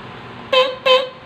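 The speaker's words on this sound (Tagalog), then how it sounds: "Ayan, busina." Two short, sharp honks from a car horn wired through an interrupter relay, each blast about a third of a second, loud and close over a quiet background.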